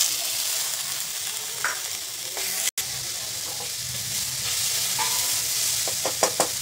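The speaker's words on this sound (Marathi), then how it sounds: "कढीपत्ता घालायचा आणि आता घालायचा आहे टोमॅटो." Tomato hits a pan of onion, ginger-garlic paste and curry leaves and sautés with a continuous close sizzle, broken by a brief dropout and a few clattering stirs near the end, with nobody speaking.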